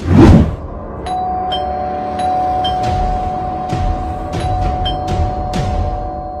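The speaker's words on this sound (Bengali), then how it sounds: "কে এলো এতবার করে কলিং বেল দিচ্ছে?" A doorbell rings again and again at a house door, bright ding tones sounding close and fairly loud over a steady background hum, with no talking.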